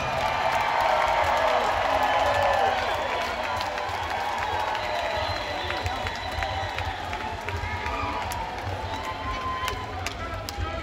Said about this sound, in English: Y'all, please give them a big round of applause.